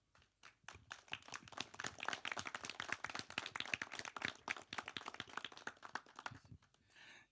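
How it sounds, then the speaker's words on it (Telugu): An audience claps together at a film thank-you meet, a dense burst of many hands that swells quickly, holds steady for several seconds and then tapers off, close and lively with no talk over it. "ఒక్కసారి అందరూ క్లాప్స్ కొట్టండి."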